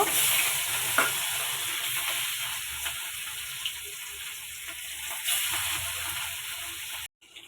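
Rohu fish pieces rubbed with turmeric and salt sizzle in hot oil, a loud continuous crackling hiss with occasional spatters and small stirs, cutting off abruptly at the end.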